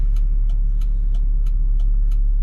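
A 1997 Volvo S70 on the move, a steady low road and engine drone holding level throughout, with a faint regular ticking over the top and no voices.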